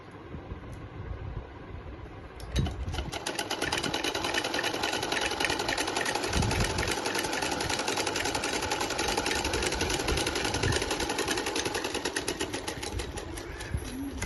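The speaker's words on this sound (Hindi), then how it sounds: "सिलाई कच्ची नहीं रहे, इसलिए इसको एक बार और सिलाई कर लेंगे, डबल सिलाई करेंगे इसकी।" A sewing machine runs in a steady, continuous whir while stitching a second pass along a salwar seam, close and loud after a brief quieter start, with no talking.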